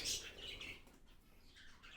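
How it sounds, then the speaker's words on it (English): Faint chirps and soft squawky calls from hooded parakeets and other birds in an aviary, heard at a distance with some wing flutter, no voices. "The hooded parakeet, one popular bird."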